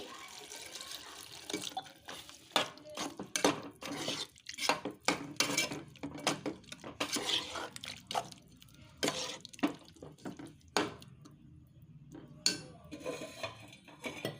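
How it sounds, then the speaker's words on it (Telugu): Water poured from a small glass into a pan of gobi tomato curry, a bright splashing run broken by clinks of metal utensils and vessels, fairly close with no talking. "ఇవి వేసిన తర్వాత ఒక చిన్న గ్లాస్ వాటర్ పోయాలి"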